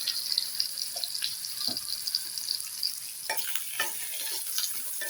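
Ground coriander, cumin and dried chili powder frying in a pan for a tangra fish curry, a bright steady sizzle with repeated spatula scrapes and stirs close by.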